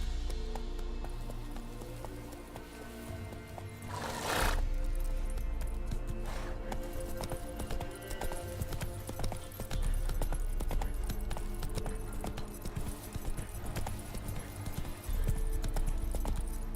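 Roach, the horse in The Witcher 3: Wild Hunt, runs across open country with a steady drumming of hooves and occasional louder whooshes, backed by continuous game music and ambience.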